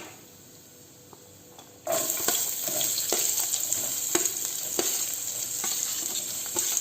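Sliced onions with cumin seeds and garlic cloves hit hot oil and fry for green peas ghugni: a faint hum gives way to a sudden loud, steady sizzle, with scattered sharp pops and spatula scrapes throughout.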